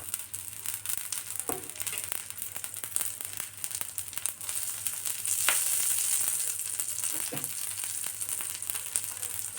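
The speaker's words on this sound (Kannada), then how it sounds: "ಇವಾಗ ನಾನು ಈ ಸ್ಟೇಜಲ್ಲಿ ಇರಬೇಕಾದ್ರೆ ನಾನು ಎಣ್ಣೆ ಹಾಕ್ತಾಯಿದ್ದೀನಿ ಸ್ವಲ್ಪ ಎಣ್ಣೆ ಜಾಸ್ತಿನೇ ಹಾಕಿ ಏನು ತೊಂದರೆ ಇಲ್ಲ" Set dosa frying in oil on a pan gives a continuous close sizzle and crackle with a faint low hum underneath and no voices.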